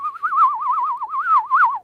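A person whistles a single steady, close tone with a fast wavering warble running through it, lasting just under two seconds.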